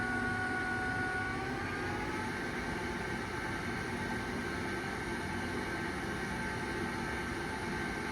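An oil country lathe on a variable speed inverter drive turns slowly at 9 RPM, giving a steady, continuous mechanical hum with tonal whine and broadband noise throughout, close and even in level.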